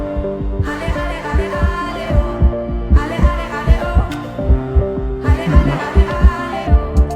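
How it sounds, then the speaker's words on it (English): Heartbeat sound effect pulsing in a steady low throb with regular paired beats, played under a swelling musical score that rises and falls throughout. "If you listen carefully, can you hear my heartbeat?"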